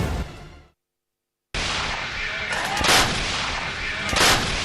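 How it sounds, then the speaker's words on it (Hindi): Artillery guns firing in Azerbaijan-Armenia war footage: a burst of heavy fire, a sudden silence, then dense booming blasts and crackling reports with two sharper peaks, loud and close throughout. "इन वीडियो में अजरबैजान की तोपें दुश्मन पर आग उगलती नजर आईं।"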